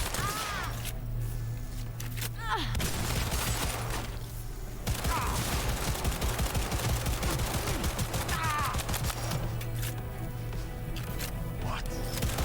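Gunfire in the video game Cyberpunk 2077, dense sustained bursts of rapid shots with short pauses between volleys, loud and continuous over game ambience.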